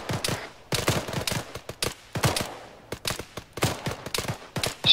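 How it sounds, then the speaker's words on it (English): Machine gun fire in the Arma 3 video game: irregular clusters of sharp shots that stutter in short uneven bursts with brief gaps between them, fairly close and loud. "we got a machine gun at like on where it used to be, Cresting Hill"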